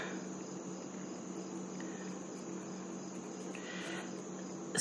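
Spring peepers trill in a dense, steady chorus throughout, a continuous high chirring layer over a low background hum, with no voices.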